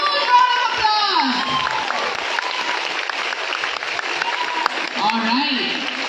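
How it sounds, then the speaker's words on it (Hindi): Loud, sustained applause from an audience at a women empowerment program in Warangal, dense clapping with some cheering that stays strong throughout, while a voice on a microphone speaks over it. "जोरदार तालियां, ह्यूज राउंड ऑफ अप्लॉज."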